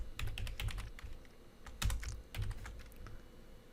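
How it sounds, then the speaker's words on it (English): Typing on a computer keyboard while writing Python code: quick, fairly close key clicks in uneven bursts with brief pauses, moderately soft and alone. "let me type this out"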